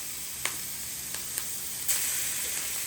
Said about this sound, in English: Let's add some butter. I'll add my garlic. We're here to sear very, very quickly